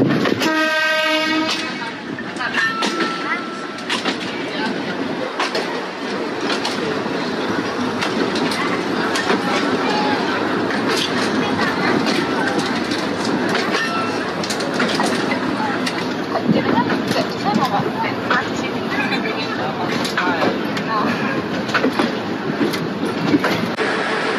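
A century-old train pulls into Ambarawa station, its horn sounding at the start over a steady, loud rumble and rattle of rolling wagons that carries on throughout.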